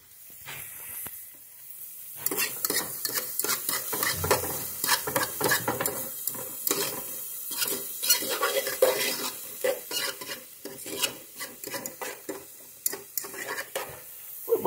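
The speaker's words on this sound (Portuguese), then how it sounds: "Sobra azeite, alho, cebola. Dá uma refogadita." Garlic and onion sautéing in olive oil in a pan, stirred steadily with a utensil: near, continuous sizzle broken by frequent scraping and clinking strokes against the pan, with no talking.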